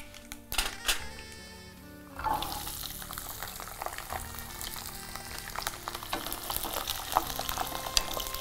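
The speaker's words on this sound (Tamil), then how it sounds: "கடுகு நல்லா பொரிஞ்ச உடனே தீயை மிதமாக்கி பூண்டு போட்டிருக்கேன்" Garlic dropped into hot oil with popped mustard seeds, sizzling as it fries over medium heat; a few clinks first, then a continuous crackling hiss that grows busier.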